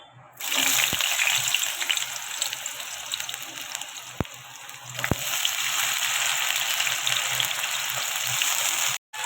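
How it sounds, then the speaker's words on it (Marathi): Pieces of elephant foot yam (suran) go into hot oil in a slightly worn kadhai, setting off a loud, continuous sizzle and bubbling after a quiet start, with a few faint clinks along the way. "आता तेलामध्ये आपण हे सुरण टाकूया"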